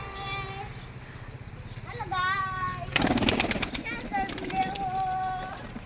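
Morning cooing and calls from pet pigeons kept with eggs and chicks at home, heard close, with someone talking over them and a burst of clattering noise midway.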